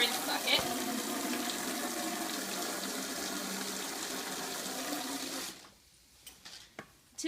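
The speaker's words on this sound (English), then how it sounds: "The bigger bucket I fill with just cool water to be a rinse bucket." Cool water pours steadily into a large rinse bucket, a continuous rushing splash that runs for about five seconds before cutting off, followed by a few faint clunks and drips in near silence.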